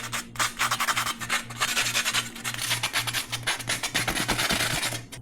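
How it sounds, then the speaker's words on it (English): Sandpaper rubbed steadily by hand over the edges of a stainless steel camp griddle plate, a close, continuous abrasive rasp in quick back-and-forth strokes with a low hum running underneath. "Okay, try to sand these edges down."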